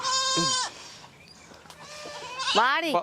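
Goats bleat loudly and close by in a goat shed, one long wavering call at the start and another near the end, with quieter shuffling between.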